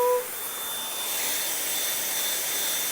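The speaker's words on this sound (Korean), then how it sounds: "이게 흡입력이 워낙 좋으니까 그냥 뭐 청소기만 믿고 막말로 건성건성 청소해도 금세 깨끗해지더라고요." A 2020 Samsung Jet cordless stick vacuum cleaner running indoors: a loud, steady whooshing whine with a thin high tone, holding constant throughout after a brief click at the start.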